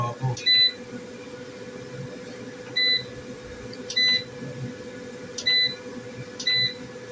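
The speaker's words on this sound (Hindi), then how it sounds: "ये बीप ऑन हमने रख ली।" A Ziewnic PV6500 inverter gives short, sharp electronic beeps at irregular intervals, five or so across the stretch, over a steady low hum with no speech.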